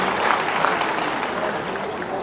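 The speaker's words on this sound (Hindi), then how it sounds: "इन सभी के लिए आप सभी की जोरदार तालियां अपेक्षित हैं।" Sustained audience applause at an Uttar Pradesh Day ceremony in Lucknow, a dense, even clatter of many hands clapping throughout without pause.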